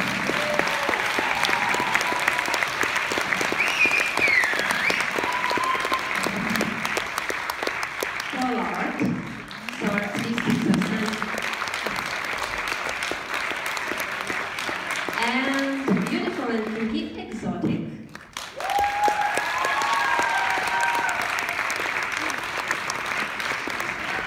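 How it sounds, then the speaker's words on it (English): Sustained audience applause fills an award ceremony at a 2016 pole dance championship, steady and loud throughout, with an announcer's amplified voice cutting in briefly over the clapping. "Please, I need your applause for the representatives of pole sport."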